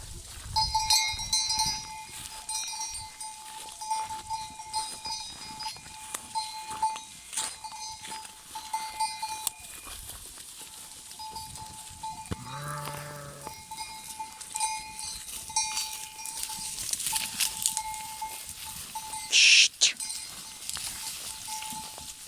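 Farm lambs on a hot, dry day let out a single bleat midway, surrounded by scattered clinking like a cowbell and soft rustling patter at a moderate distance.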